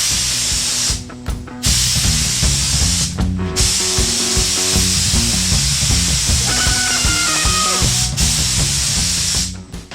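A spray gun applying epoxy sealer to a 1934 Ford Coupe hisses loudly and continuously at close range, cutting off briefly three times between passes, with a low compressor hum underneath.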